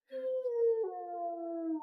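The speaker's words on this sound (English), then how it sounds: "They say it's the cry of the Hound of the Baskervilles." A hound howls across a moor in a radio drama, a single long mournful wail that slides gradually downward for under two seconds, heard alone and fairly close.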